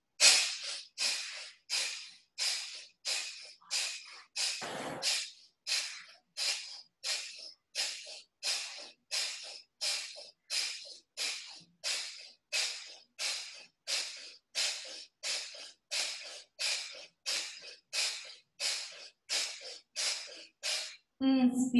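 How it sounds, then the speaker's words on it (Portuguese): Someone does a rhythmic breathing exercise for calming anxiety and stress, with close, airy inhales and exhales repeating in an even, quick pulse about thirty times, with one deeper breath partway through. "E aí você vai dar um ritmo para essa respiração"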